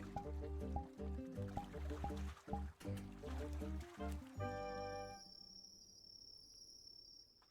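Watery splashing and dripping in a VRChat roleplay scene by the docks, irregular wet pulses for several seconds before fading to a quieter hiss with a thin high tone.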